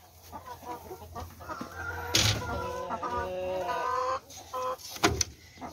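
Chickens in a coop bedded with rice hulls, including black Australorps, Rhode Island Reds and a rooster, keep up close, varied clucking and drawn-out calls, with a few sharp scratchy bursts of movement breaking through.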